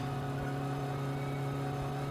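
A car engine drones and revs steadily in the driving game My Summer Car, a constant mid-pitched hum with a whirring edge, heard alone without talk.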